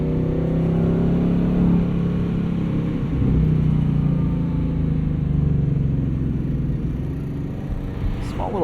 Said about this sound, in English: Little burble from the exhaust back there.